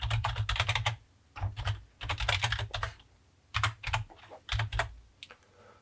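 Typing an email address on a computer keyboard, a close, soft run of rapid key clicks in short bursts separated by brief pauses.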